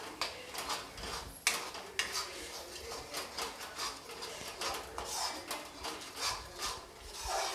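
Spinach gravy stirred in a cooking pan, a steady repeated scraping of a spoon against the metal with a sharper knock near the start, close and fairly soft, no voices.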